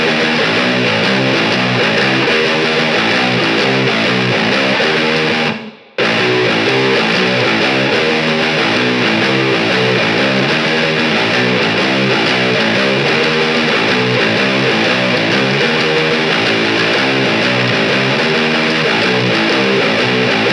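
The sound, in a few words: Riff on 7-string guitar in drop A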